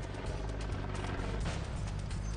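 Helicopter on aerial surveillance above a gathering of police, a steady low rotor drone holding at moderate, even loudness throughout with no talk.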